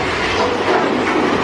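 Big Thunder Mountain Railroad roller coaster train rattling along its track, a loud, dense clatter of wheels and cars filling the whole short stretch with no voices over it.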